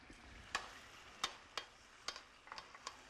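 Veal rollini with prosciutto and feta simmering alongside asparagus in a pan of sauce, soft sizzle under sharp irregular clicks and taps of utensils, no voices.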